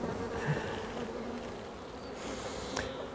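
Honeybees buzzing around an open beehive during an inspection, a soft continuous hum of several insects close by, fairly quiet, with no talking.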